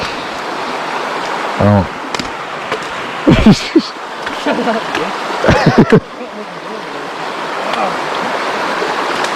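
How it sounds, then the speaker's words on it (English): Creek water rushing steadily over rocks at a trail crossing in the Ozark Highlands, a constant close wash of flowing water with a few splashes, while people talk briefly over it. "Just woke up to a beautiful creek crossing"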